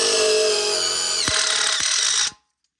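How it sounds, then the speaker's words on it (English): Impact gun driving a stud into a pre-drilled hole in a tire being built for ice racing: a steady, loud whirring drive lasting over two seconds with a couple of sharp knocks near the end, then abrupt silence. "you're going to want to load her up into your trusty impact gun"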